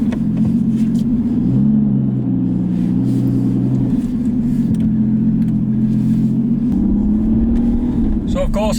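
An Aston Martin V12 Vantage running after starting, its deep, loud engine rumble holding steady and shifting pitch slightly, with someone talking over it throughout.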